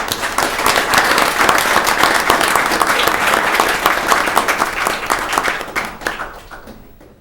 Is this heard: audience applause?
yes